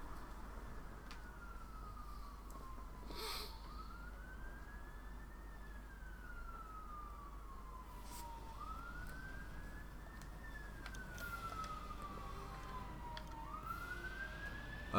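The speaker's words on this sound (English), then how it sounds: "May hear a siren" An emergency vehicle's siren wails past in long, smooth rising and falling sweeps, steady and fairly loud over a constant low rumble of background noise, with no talking.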